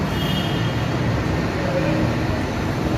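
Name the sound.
Bangkok BTS Skytrain at station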